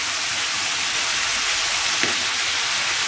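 Half a kilo of mutton frying in a pan for a Tamil-style mutton karahi, giving a steady, close hiss and sizzle that runs evenly throughout with one faint brief click midway.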